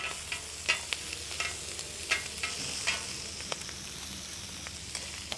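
Lamb chops brown in a hot pan with a soft, even sizzle, broken by frequent light clicks and taps of a utensil moving the meat.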